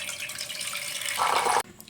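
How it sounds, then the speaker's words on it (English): Water pours from a tap into a cooking pot, a steady splashing rush that swells near the end before cutting off abruptly, close and clear with no talking. "So I'm starting off by getting water in the pot."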